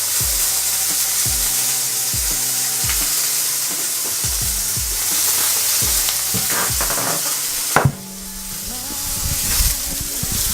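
Steak sizzling steadily in a frying pan, a loud continuous hiss with bursts of spitting fat and a sharp clatter near the end, all close by with no talk.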